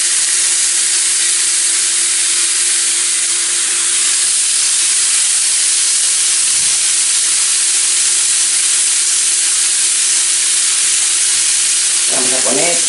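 Steaks sizzling in a very hot old frying pan, a loud, unbroken hissing sizzle that holds steady throughout, with a brief stirring scrape near the end.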